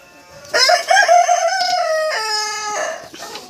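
A single loud, close, drawn-out call from a Cochin chicken, crow-like and strained, rising and then holding before breaking off, with nothing else around it.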